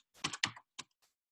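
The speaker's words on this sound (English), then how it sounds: "I'm trying to type this fast and my cursor's there" Keys on a computer keyboard clatter in a short, quick burst of close, faint taps, then trail off into silence.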